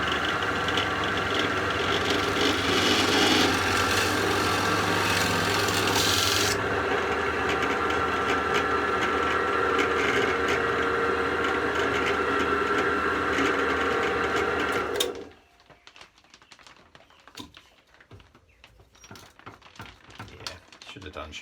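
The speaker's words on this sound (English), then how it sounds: "So I've got a Forstner bit in here, and I'm just going to take that through." A drill running a Forstner bit through wood, a steady loud whirring grind for about fifteen seconds before it stops abruptly, leaving faint clicks and handling noise.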